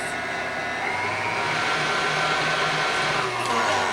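An electric hand mixer creams red velvet cupcake batter in a bowl, giving a steady, continuous motor whir with a faint pitch wobble that runs for the whole stretch without any talk.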